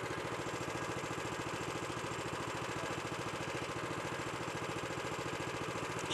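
A racing kart engine idles steadily at a kart race, a fast, even buzzing putter that holds constant throughout at moderate distance.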